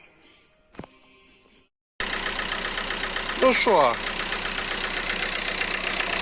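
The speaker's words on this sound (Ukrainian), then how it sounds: "двигун працює вже на чотирьох циліндрах. Працює вже зараз добре." After a short pause, a Seat Alhambra 2.0 TDI diesel engine, just repaired after an injector fault, starts and settles into a steady, rattling four-cylinder idle close by, with someone speaking briefly near the beginning.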